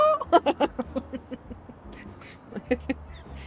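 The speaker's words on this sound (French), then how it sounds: "il y a des canards et des oies dans ce jeu" Ducks quack in a quick burst of several calls in the video game Little Kitty, Big City, followed by a few scattered quacks, fairly close and clear.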